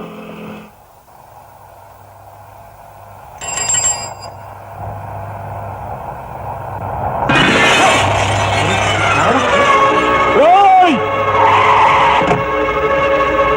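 A car drives past in a Telugu film comedy scene. After a quieter opening, a loud rushing engine roar swells and holds, with brief squealing tones riding on top.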